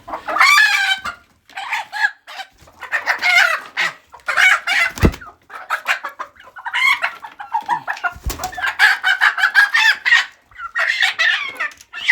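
Several chickens cluck and squawk in repeated bursts close by, with overlapping calls and brief pauses between them.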